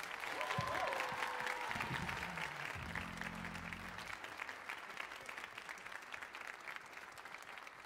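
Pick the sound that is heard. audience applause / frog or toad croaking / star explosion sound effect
audience applause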